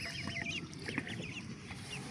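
A flock of small ducklings peeps continuously, overlapping high, thin chirps that are soft and close, with no one talking.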